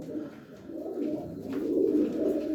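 Pigeons coo in a low, continuous murmur close by, with a soft rolling hum that swells slightly toward the end and no speech over it.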